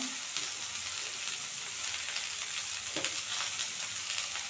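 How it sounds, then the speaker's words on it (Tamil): Tomatoes sauté in a hot pan for a spicy kara chutney, a steady, soft sizzle and crackle running throughout with occasional faint stirring clicks. "இதில் தக்காளி சேர்த்துக்கலாம்"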